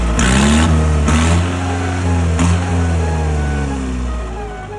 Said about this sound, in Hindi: ट्रैक्टर में रेस देते ही ये शेर की तरह दौड़ रहा था।